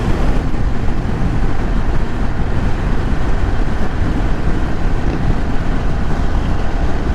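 A 2022 Indian Chief Dark Horse motorcycle riding at speed, with a dense, steady roar of engine and wind rush that stays loud throughout without a break.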